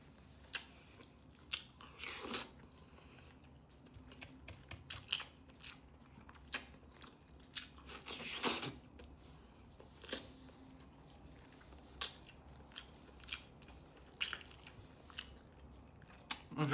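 Someone bites and chews balut, a boiled duck egg with a developed embryo, making faint, close, wet crunches and mouth sounds in irregular bursts over about seventeen seconds, with no talking.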